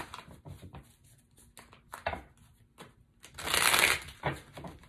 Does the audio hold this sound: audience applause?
no